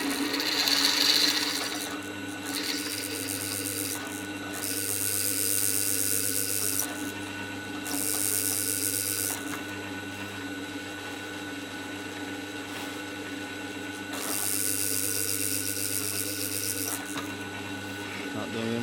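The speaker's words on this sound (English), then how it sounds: "I'm just going to swap over to the next size drill bits and go over" A power drill whines in repeated bursts as it drills the rivet-like bolt heads off during a DQ500 Deka DCT billet centre install, loud close revving that starts and stops several times with pauses between.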